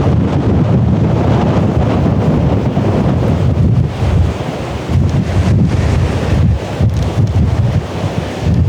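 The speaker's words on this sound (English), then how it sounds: "It looks a bit choppy at the moment. I think because it's contained with the wind shooting down the valley." Strong wind funnelling down a Scottish valley over a choppy loch, a loud, constant buffeting roar against the microphone with wave wash underneath and no voices.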